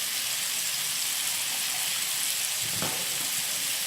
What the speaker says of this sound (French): Comme vous voyez, je continue à faire cuire les pommes